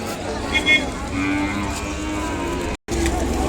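Ongole cattle low repeatedly at a busy livestock market, their deep calls rising over a steady crowd murmur and other market noise, with a brief drop to silence near the end.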